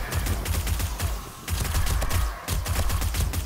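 SMG bursts in 7 Days to Die, a rapid-fire 9mm submachine gun rattling in three loud, sustained volleys separated by brief pauses.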